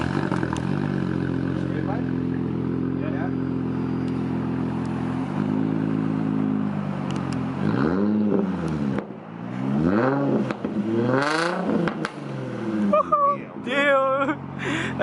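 An Infiniti G35 with an aftermarket intake and single exhaust starts and revs loudly up close, rising and falling in repeated pulls over a steady idle, with people talking briefly near the end.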